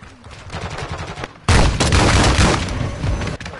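Rapid automatic gunfire and booms in a shooter video game, loud and continuous, jumping to an intense, dense burst partway through.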